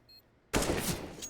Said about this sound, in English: Nico would need to hit that first bullet out of his AK here